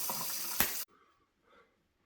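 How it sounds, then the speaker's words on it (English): Tap water rushes through a Glacier Fresh under-sink filter in a steady, loud stream, then cuts off abruptly, leaving only faint handling noises. "You must have just turned the water on."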